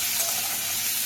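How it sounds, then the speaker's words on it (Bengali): Potatoes fry in a pan over low heat, giving a steady close sizzle and hiss with a faint stir or clink near the end. "এবার এটাকে কিছুক্ষণ ভাজবো"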